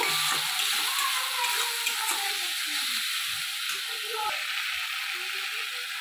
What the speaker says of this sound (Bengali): এখানে পেঁয়াজ বাটা টমেটো বাটা দিয়ে দিলাম। ভালো করে মশলাটাকে কষে নেব।